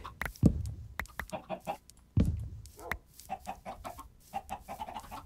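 Chickens clucking in the video game Minecraft, a series of short, close clucks and squawks in irregular bursts, with two louder low thumps among them and no talking.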